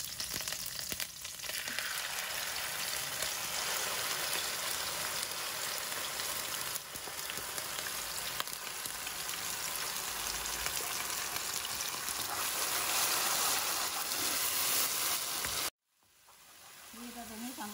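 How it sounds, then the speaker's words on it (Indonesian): Blended spice paste with bruised galangal, lemongrass, bay leaves and lime leaves sizzles steadily in hot oil as it is stir-fried, a dense continuous crackle that cuts off abruptly near the end. "Ini kita tumis sampai agak kering ya, biar nggak langur, harum."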